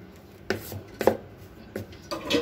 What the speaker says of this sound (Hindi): अब हम इन सबको जो है ना अच्छे से मिक्स करेंगे